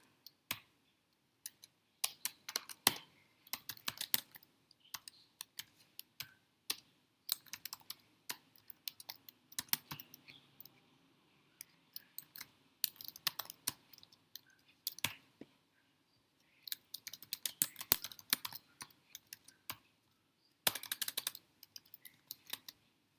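Someone types code on a computer keyboard in uneven bursts of rapid, crisp keystrokes broken by short pauses, close and clear with no speech.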